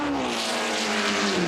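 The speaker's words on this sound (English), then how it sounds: "What a lovely sound from that Cosworth engine." Cosworth engine of a 1967 Formula One race car at Silverstone, a loud, sustained high-revving howl held steady and close, with the pitch shifting slightly as it runs.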